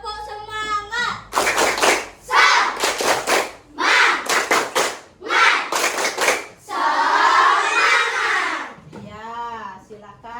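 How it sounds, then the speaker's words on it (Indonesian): Fourth-grade schoolchildren in an Indonesian classroom perform a rhythmic spirit clap. Sharp, close bursts of unison clapping alternate with children's chanted voices, ending in a loud group shout. "Tepuk semangat."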